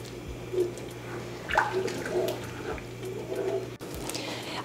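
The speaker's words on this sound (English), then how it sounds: "You want to wash the rice until the water is completely clear." Broken jasmine rice is washed by hand in water, with soft repeated swishing and sloshing pulses, close and fairly quiet.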